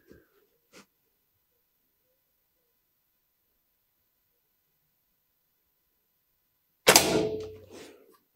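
A single sharp shot from a Reximex Myth PCP air rifle cracks loud and close after a long quiet pause, with a short decaying tail.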